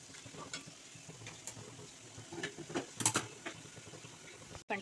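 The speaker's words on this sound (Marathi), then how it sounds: "आता याच्यात आपण गरम पाणी टाकूया." Roasted moong dal for halwa, cooked in ghee, crackles and sizzles faintly as hot water goes into the pan, with scattered stirring scrapes and clinks close by.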